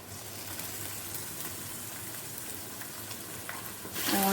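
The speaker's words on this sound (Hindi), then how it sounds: "अब मैं इसके अंदर चिकन का कीमा डाल रही हूँ।" Raw chicken keema hits a hot frying pan and gives a soft, steady sizzle. It grows louder and fuller near the end.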